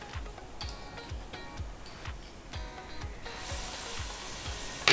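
Onions frying and browning in a pan for vegetable dum biryani, a soft steady sizzle with regular ticking thumps of stirring, close but quiet, with no talking.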